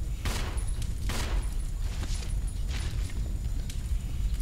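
Enemy gunshots in Resident Evil Zero HD Remaster, several sharp distinct shots spaced irregularly over steady low background noise.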